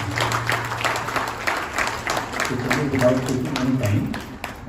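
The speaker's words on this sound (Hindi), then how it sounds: "जोरदार तालियां" An audience at an NGO award ceremony in a hotel applauds steadily, dense clapping kept up throughout, with voices and a hum from the sound system underneath.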